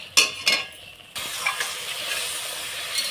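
Mustard spice paste with Kashmiri chili powder frying in a pan for a silver carp curry, two sharp stirs or scrapes first, then a sudden steady sizzle that carries on with faint clinks.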